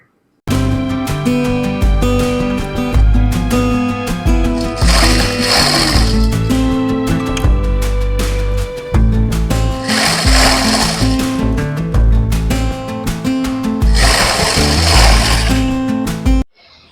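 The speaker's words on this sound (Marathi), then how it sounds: "मोटर बघताय किती हलते" A machine motor runs loud and steady at close range, shaking hard as it goes, with a constant buzzing drone that keeps pulsing throughout and no speech.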